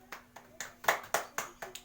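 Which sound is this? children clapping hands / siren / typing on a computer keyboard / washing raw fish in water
children clapping hands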